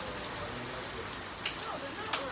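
Heavy rain pours steadily outdoors in Ghana, a faint, even hiss broken by a couple of brief sharp taps.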